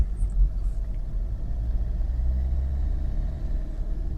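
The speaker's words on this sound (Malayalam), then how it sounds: "നിങ്ങൾ ആക്സിലേറ്റർ കൊടുത്ത് ഓരോ ഗിയറും മാറിപ്പോവുക" Car engine rumbling steadily as it pulls away and runs up through the gears on a road driving test, a low continuous drone close by with no talk.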